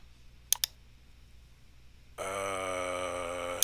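A computer mouse gives two quick, sharp clicks close together in a quiet room. A loud, steady tonal sound then starts and continues to the end.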